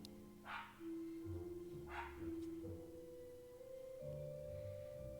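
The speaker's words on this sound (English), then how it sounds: "Friendly dog outside somewhere." A dog barks somewhere outside in a video game, two short muffled barks in the distance over steady background tones and music.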